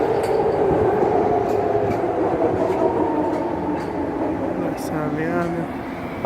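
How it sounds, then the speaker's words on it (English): A BART rail train rolls past up close with a steady loud rumble and rhythmic clatter of wheels on track, a faint squeal near the end, and a voice speaking briefly over it. "Trains becoming hella fast now."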